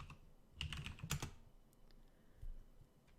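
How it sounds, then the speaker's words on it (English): A few quick bursts of computer keyboard typing as a network command is entered, brief clustered keystroke clicks close up, then a single later tap in a quiet room. "So let me just type show IP access list."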